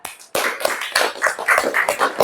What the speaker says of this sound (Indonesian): Tepuk tangan buat Kak Najla